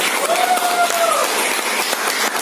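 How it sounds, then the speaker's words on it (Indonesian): Applause for barbershop participants at a morning charity event, a steady dense wash of clapping from a crowd, loud and sustained throughout, with a faint tonal whistle-like sound drifting through the first second. "Akhirnya boleh berikan tepuk tangan kepada mereka."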